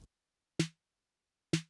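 Snare drum sample providing the body layer of a layered snare, two short crisp hits with a tonal mid-range ring, spaced about a second apart, heard alone.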